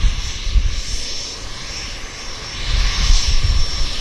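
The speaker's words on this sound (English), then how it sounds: "So let's get this Air Canada Dreamliner" An Air Canada Dreamliner jet airliner at Vancouver airport gives off a steady, moderately distant engine roar that swells slightly toward the end, with no talking over it.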